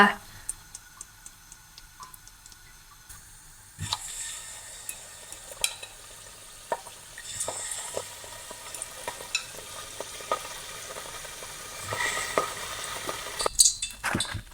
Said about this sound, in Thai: มาคราวนี้เรามาทอดมะเขือเทศกันนะคะ ใช้หม้อเพราะว่า มันจะได้ไม่กระเด็นเลอะครัว